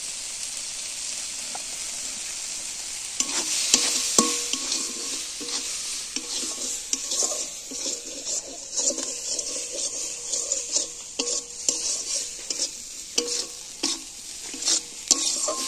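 Continuous frying sizzle of prawn-stuffed pointed gourd in a pan with repeated scraping and stirring clatter from a spatula, steady and close, with no talking.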